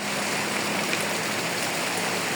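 Heavy, nonstop rain pours down during a flood that has filled a yard and floor with water, a dense, even roar of falling water that holds steady with no pauses.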